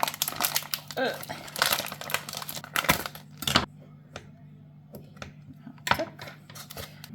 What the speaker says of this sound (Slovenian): imam pa ta grana padano, kaj imam, parmigiano. Pa ga bom tako malo nasekljala